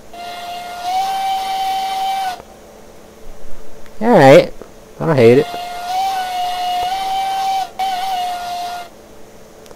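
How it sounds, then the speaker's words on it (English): Steam locomotive whistle from the video game Railroads Online sounds in long sustained blasts, a first held tone, then brief talk, then a second long blast with a short third toot, loud and clear. "Whistle."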